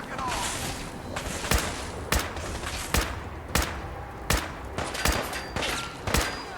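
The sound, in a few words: gunshots from video game Fallout 4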